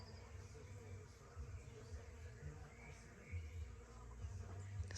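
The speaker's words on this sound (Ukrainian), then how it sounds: "Сподіваюсь, ви чуєте, як працюють бджоли" Bees and bumblebees working around flowering honeysuckle in a garden at evening, a faint, steady low buzz that drifts in and out over quiet outdoor ambience.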